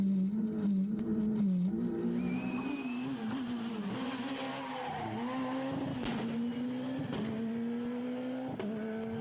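Freddie Loix's rally car at full attack on narrow, slippery roads: a sustained engine drone rising and falling through gear changes, with sharp transient pops and brief tire noise, close and continuous, no talk.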